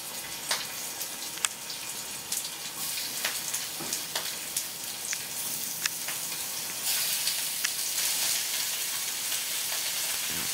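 Short ribs searing in a hot pan give a steady, close sizzle with scattered sharp pops and crackles, growing a little louder and brighter toward the end, with no voices.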